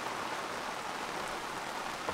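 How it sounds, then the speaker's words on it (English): Heavy rain pours down steadily around an anchored sailboat at an island, a dense hissing patter of drops on surfaces, moderately loud and unbroken, with no voices. "A downpour"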